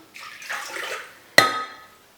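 Water poured from a measuring cup into a saucepan while pickling shredded carrots, a short splashing pour followed by a sharp clank of the pan and a fading ring.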